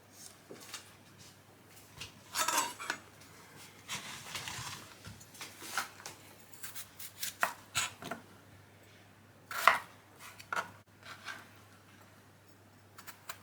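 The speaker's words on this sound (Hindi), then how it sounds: "सबसे पहले हम सब्जियों को काट लेते हैं।" A knife chops vegetables into small pieces on a cutting board for aloo gobi, a quiet, uneven series of close taps and thumps with short pauses between bursts, no talk.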